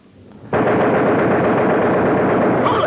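Aircraft machine gun on a B-17 bomber firing in a 1944 gunner training film, a sudden loud continuous burst of rapid shots held for over two seconds.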